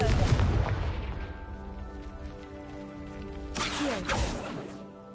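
Confringo explosive spell blast in Hogwarts Legacy, a loud burst at the start with a ringing tail, then a second crackling blast near the end over game sounds.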